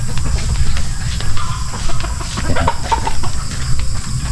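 Chickens clucking on a rural farm where goats and fowl roam the grass, scattered short clucks and calls over a constant low hiss and rumble of outdoor background.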